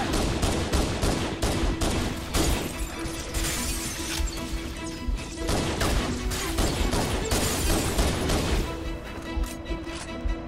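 Loud, continuous gunfire in the Halo video game, rapid volleys of shots and impact cracks layered densely across the whole stretch, alone without any voices.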